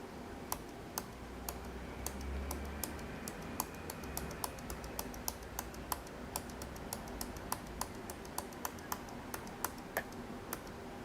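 Keys clicking steadily on a computer keyboard, driving a moving eraser in a design installation; crisp, fairly even keystrokes at a moderate distance, with no talk over them.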